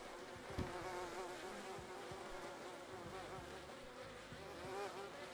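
Honey bees buzzing in a video game, a dense continuous drone of many insects, fairly close and steady throughout, alone without talk.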